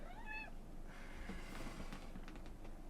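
A pet cat meows in a short, rising call early on, followed by fainter rustling and background room noise with no talking.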